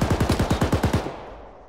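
Rapid automatic gunfire from the Arma 3 military simulation, about ten evenly spaced loud bursts over one second, then a fading echoing tail.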